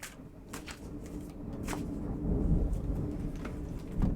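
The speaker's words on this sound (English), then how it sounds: "and then I hear a peal of thunder and some thunder out there" Thunder and light rain outdoors: a low rumbling swell builds and lingers, with scattered soft crackles and patter over it, heard from some distance.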